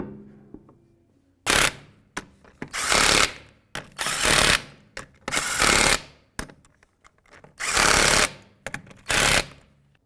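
Lug nuts are run onto a Chevy Equinox wheel with an impact wrench in a series of loud, sharp rattling bursts separated by short pauses.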